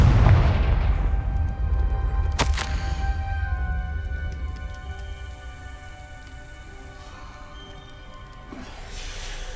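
Confringo blasting spell going off in Hogwarts Legacy: a sharp, loud burst early on that rings out into a rumbling, crackling tail, with steady game ambience beneath and no talking.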